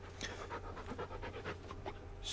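Rhythmic dog panting from the Farming Simulator 19 video game, a steady run of quick breathy pulses heard up close against a constant low in-game hum, with no talking.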